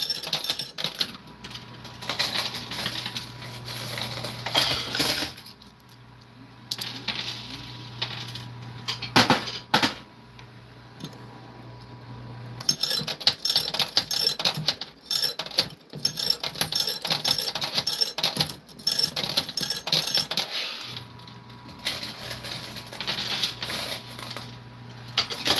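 Coins drop and clatter in a coin pusher arcade game, with repeated metallic clinks and mechanical whirring over a low steady hum, close and fairly loud, broken by brief quieter stretches.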